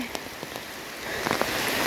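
Heavy rain pours down outdoors, a dense, steady hiss of drops that swells louder toward the end, with a few sharper drips close by.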